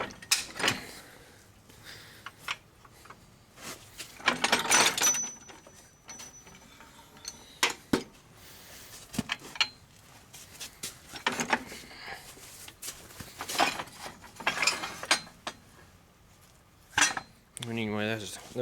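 Metal three-point hitch sliding out on a Farmall Super C tractor, with several scraping, clanking bursts of metal on metal at close range, separated by quieter pauses.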